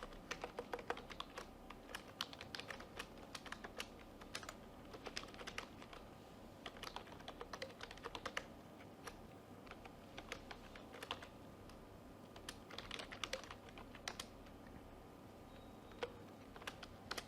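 Someone types steadily on a computer keyboard, a quiet, close stream of irregular key clicks with brief pauses in between, no voices.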